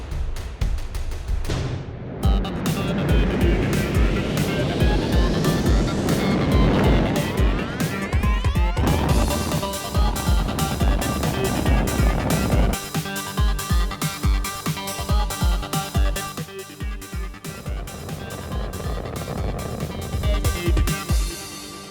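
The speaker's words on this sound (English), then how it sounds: "Main engine start, 2, 1, and 0, and liftoff." A roaring, rumbling blast of rocket engines at liftoff builds in a loud sustained wash of noise, mixed with rising tonal sweeps and music-like layers, continuing strongly for over twenty seconds.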